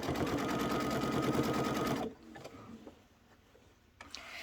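Sewing machine stitching a quilt, running steadily and loud with a fast rhythmic needle patter for about two seconds, then stopping abruptly and leaving quiet handling noises.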